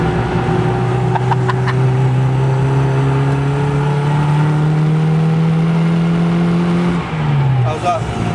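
A Leyland Lotus Mini Estate on nitrous runs flat out, its engine note holding a loud, steady high drone that climbs slowly, then drops off near the end.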